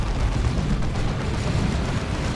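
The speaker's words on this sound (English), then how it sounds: "That was the Demolisher Cannon, I think." A Demolisher Cannon in the battle game Dawn of War 2 fires amid a heavy rumbling barrage, deep, loud booms blending into a continuous low roar.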